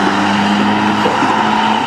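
A car with an SR20 engine races a Toyota Supra, giving a loud, steady engine drone with a sustained tonal whine close by and no voices.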